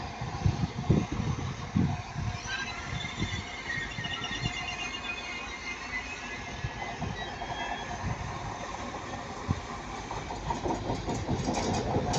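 A Class 185 diesel multiple unit, 185145, passes at Ardwick heading for Manchester Piccadilly, giving a loud, continuous rumble of engine and wheels with rhythmic clickety-clack thumps throughout.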